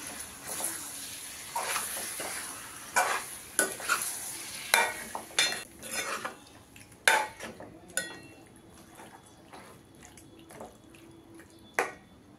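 Green chicken curry, Hyderabadi style, being stirred in a pan, with repeated scraping strokes and knocks of the spoon against the pan over a low sizzle, close and without talk.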